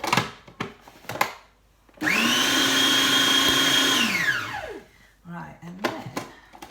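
A kitchen blender mixes blanched almonds for an Italian lemon almond tart, a loud steady whirring run of about two seconds that winds down, with short clatters and a voice before and after.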